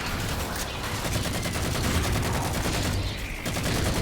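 Marine-manned gunner turrets firing in Halo 4, rapid sustained bursts of gunfire in a dense, loud fusillade without a break.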